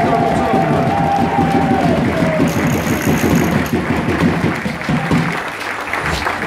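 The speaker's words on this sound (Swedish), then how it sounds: "Ja, vi kör en applåd till." Audience applause at a Swedish bowling championship ceremony, sustained clapping from a crowd in a bowling arena with a low rumble and a steady background din beneath it, voices mixed in.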